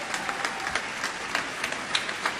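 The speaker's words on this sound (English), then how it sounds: "How about a round of applause for the All-CIF boys golfers in the house tonight?" An indoor audience applauds for high school boys golfers at a sports awards show, a steady wash of many hands clapping at moderate distance, with no one speaking over it.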